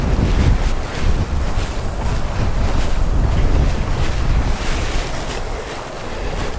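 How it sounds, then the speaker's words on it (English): Strong wind buffets the microphone in continuous gusts, with a surf-like roar swelling and easing throughout. "It's very windy today."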